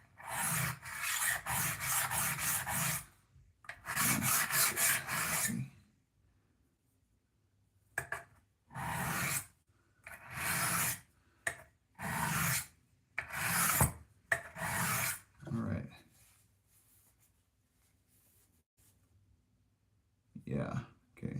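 Straight razor being honed on a diamond plate, short bursts of dry rasping strokes in quick runs separated by pauses, close and fairly quiet.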